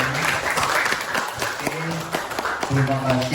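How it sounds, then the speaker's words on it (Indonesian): Audience applause closing a teacher-training presentation on positive school culture in Tanggamus, a steady wash of clapping from a room of people, with voices and harmonic speech-like tones rising through it toward the end. "Mungkin bisa kita tepuk tangan untuk hari ini."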